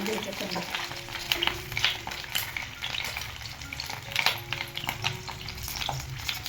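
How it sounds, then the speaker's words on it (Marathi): Eggplant frying in oil in a pan over a low flame and being turned and stirred, giving a steady crackling sizzle with scraping and clinks throughout and no talk. "त्या तळायला पण वांगे ठेवली ना सारखी खालीवर करत राहायचं आणि बारीक गॅसवर तळून घ्यायचं चांगले"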